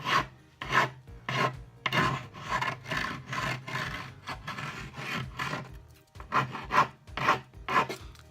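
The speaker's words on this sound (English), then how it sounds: "So I've got a piece of 150 sandpaper on a little block glued to it." A 150-grit sandpaper glued to a small block rasps back and forth along wooden edges, giving close, rhythmic scrubbing strokes of about two per second, with a short pause midway.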